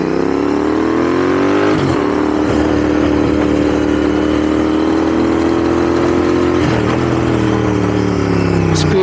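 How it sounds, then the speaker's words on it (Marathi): A heavy 200 kg motorcycle's engine drones loud and close while riding, a steady low hum with slight pitch dips near two and seven seconds as the throttle shifts, with wind noise and no talk. "200 किलोची बाईक आहे ही."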